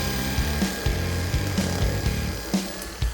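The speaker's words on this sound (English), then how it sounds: "All I gotta do is cut a little hole out" A power tool cuts a small hole in the interior panel of an XJ, making a steady close grinding, sawing drone with a few short bumps in pitch as the blade bites, and no talk.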